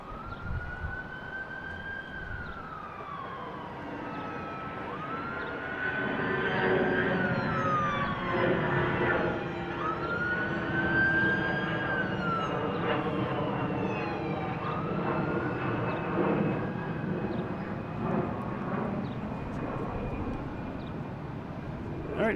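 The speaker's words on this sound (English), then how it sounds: "we have Delta taking off heading to Dallas Fort Worth" A Delta airliner takes off at Boston Logan International Airport, bound for Dallas Fort Worth: a broad roar builds and stays loud, overlaid by repeated wailing tones sweeping up and down like a distant siren.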